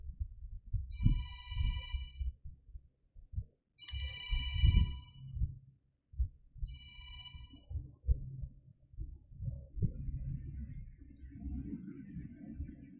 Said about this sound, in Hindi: बीच में कोई फोन आ गया था